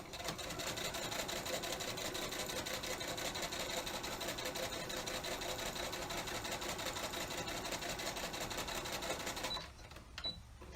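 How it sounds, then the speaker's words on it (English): A sewing machine stitches a fabric face mask with a steady, fast mechanical whir and needle chatter for about nine seconds. It then stops, leaving quiet handling sounds. No one speaks. "that's as much as I'm going to sew at the top"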